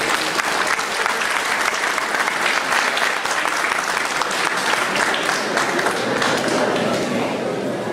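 Sustained applause from an audience honoring a lecturer at a specialization course on state procurement law, dense steady clapping for the full stretch with a faint murmur of voices underneath.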